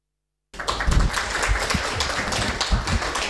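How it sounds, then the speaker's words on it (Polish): Audience applause at a cultural policy panel event in Elbląg, a dense wash of many hands clapping that starts abruptly after silence and carries on steadily at moderate loudness, with no talk over it. "Dobrze, dziękuję bardzo za te oklaski."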